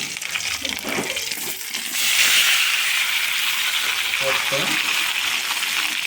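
Onion and green chili dropped into a hot frying pan, sizzling that jumps up loudly after a couple of seconds and then holds as a steady hiss, with faint voice-like sounds early on.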